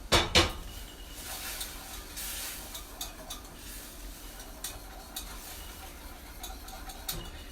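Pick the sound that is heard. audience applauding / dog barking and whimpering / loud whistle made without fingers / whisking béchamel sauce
whisking béchamel sauce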